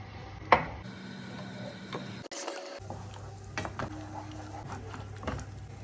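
Instant noodles being stirred in a pan with spices and cream cheese, a soft, close scraping and stirring with faint sizzle, plus one sharp clink early on and a brief pause midway.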